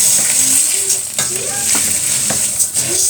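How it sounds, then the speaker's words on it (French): Rice stirred through hot oil in a pan while cooking for a chicken curry: a steady close sizzle broken by repeated scraping spoon strokes, with no talking. "juste pour que je mélange tout le riz avec de l'huile"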